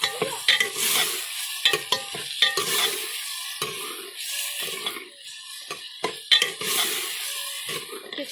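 Bottle gourd, tomato, green chili and potato frying and being stirred in a pot over a village cooking fire, with a soft sizzle and repeated scraping stirs at moderate volume.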